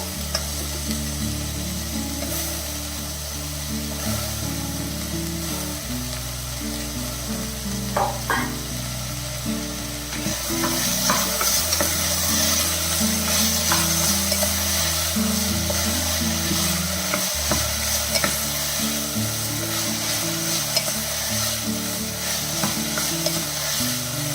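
Cauliflower pieces for a kurma are stirred in a pan, with a steady close sizzle and repeated scraping of a spoon or spatula. No one speaks.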